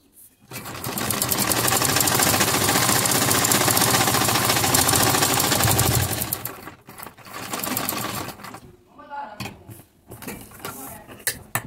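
A sewing machine runs fast and steadily while stitching a mori design onto a salwar cuff, then stops and starts in a few shorter bursts near the end.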